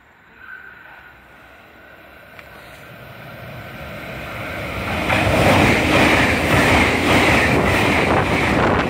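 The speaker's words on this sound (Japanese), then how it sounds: "特急ソニックが来ました" A Sonic limited express train approaches Kusami Station on the Nippō Main Line from a distance, growing steadily louder until it roars past at speed with rushing wind and rhythmic rail clatter.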